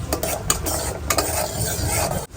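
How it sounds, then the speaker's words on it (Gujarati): Cashews frying in oil in a pan until brown, giving a steady close sizzle with quick stirring scrapes and a few utensil knocks, no talking. "બ્રાઉન થાય ને ત્યાં સુધી આપણે એને ફ્રાય કરી લેવાના છે થોડા"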